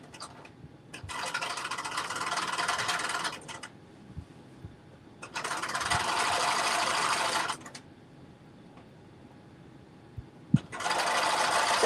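Sewing machine stitching a 5/8 inch seam allowance on a Butterick jumpsuit, three steady whirring runs of stitching with quiet pauses and soft handling clicks between them.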